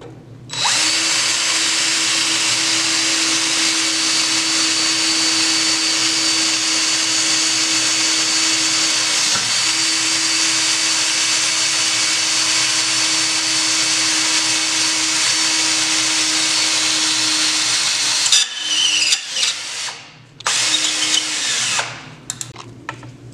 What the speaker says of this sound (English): the rivets will pull it in and we're going to start drilling